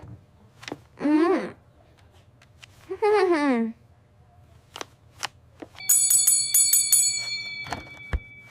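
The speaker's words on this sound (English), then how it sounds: "The bell rang loudly." A school bell rings with a bright, sustained metallic tone for about a second and a half, then fades. It follows two short spoken phrases and a few light taps.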